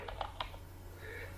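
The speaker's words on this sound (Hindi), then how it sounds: "अब मैं कीबोर्ड से Ctrl+H प्रेस कर दूं" Quiet keystrokes as the Ctrl+H shortcut is pressed on a computer keyboard, a few soft clicks near the start followed by faint background hum.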